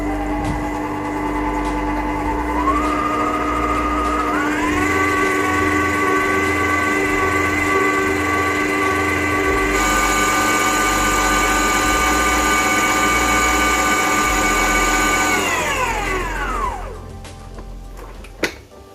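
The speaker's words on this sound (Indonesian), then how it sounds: "Kita mixer sampai putih mengembang ya teman-teman." An electric mixer beats chocolate semprit cookie batter until pale and fluffy, its close, continuous motor whine stepping up in pitch as the speed rises, holding steady, then sliding down as it slows and stops.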